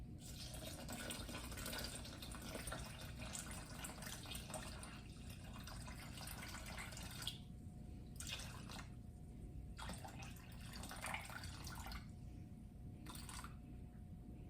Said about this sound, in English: we're going to put some warm water in there